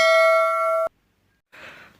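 An electronic bell chime rings loud and clear for just under a second, cutting off abruptly into silence before a short soft whoosh follows.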